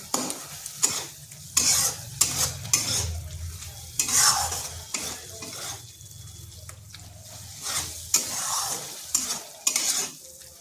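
Spice masala for pointed gourd curry being sautéed and stirred in a pan, with rhythmic, close scraping strokes repeating every second or so over a steady frying sizzle.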